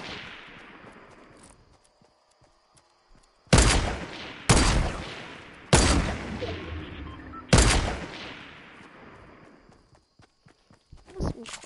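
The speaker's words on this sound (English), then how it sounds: "That's some close shots" Four loud gunshots ring out in a shooter video game, spaced about a second or two apart and each followed by a short decaying echo, with quiet stretches of faint background noise before and after.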